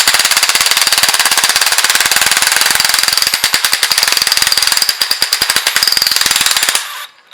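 An impact wrench removing an injector cup from a 7.3 engine rattles loudly and continuously in rapid hammering bursts, close up, then cuts off abruptly near the end.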